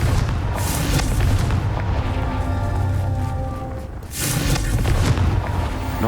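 Confringo spell explosions in the Hogwarts Legacy video game: two loud, booming blasts, one at the start and one about four seconds later, each followed by a long, heavy rumble.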